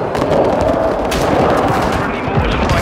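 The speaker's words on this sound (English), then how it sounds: "Our mortar strike is down." Mortar strike explosions in the video game Call of Duty Modern Warfare 2, dense overlapping loud booms and crackling blasts filling the whole clip with barely a break.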